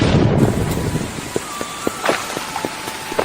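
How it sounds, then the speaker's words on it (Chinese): Heavy rain pours in a steady wash with a low thunder rumble at the start, then sharp drip and splash hits land irregularly over it, in an animated scene with no voices. "雨势实在太大"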